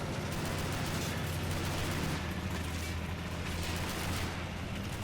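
Dense, continuous gunfire and artillery from a Stalingrad battle in a video game, with machine guns and cannon blasts blending into an unbroken, loud, crackling roar that never lets up.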